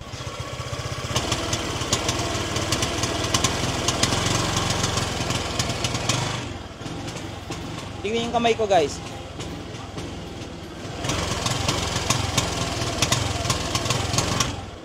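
Honda Click scooter engine idling with a fault and lost power, the mic held close to it: a steady, rough, buzzing putter that pauses midway while someone speaks, then resumes.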